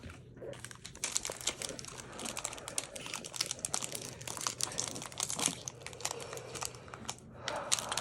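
Crinkling plastic wrapper of a football trading card pack being torn open, steady crackly rustling throughout at close range with no talking.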